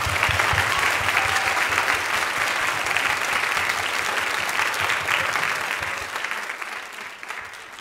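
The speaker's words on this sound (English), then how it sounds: "give these people a big round of applause for all their hard work" An audience at a Korean Culture Day event at Pittsburg State University applauds in a loud, sustained round that tapers slightly toward the end, with no talking over it.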